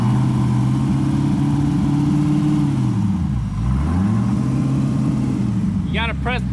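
A Factory Five GTM supercar engine revving loudly and close, its pitch falling away then climbing again under throttle, with a brief higher whine near the end.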